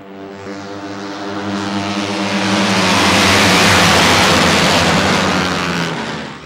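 AMA Pro Singles flat track racing motorcycles at the Virginia Mega Mile roar past in a loud pack, engine drone swelling to a peak mid-pass and then fading slightly, with no talk.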